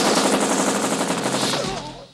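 Rapid machine-gun fire from a 1986 action film, a dense sustained burst of gunfire filling the whole stretch and trailing off at the end.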